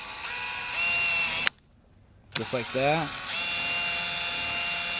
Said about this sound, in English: it's just plastic, so it should drill through relatively easy